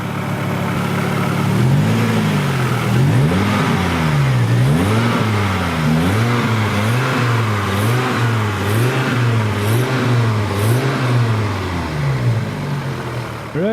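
A warmed-up Volvo 850 engine runs loud and close, its steady hum rising and falling in repeated smooth revs over a constant background drone.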